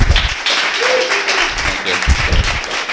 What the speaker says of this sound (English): If we can give them a round of applause, actually, it would be great.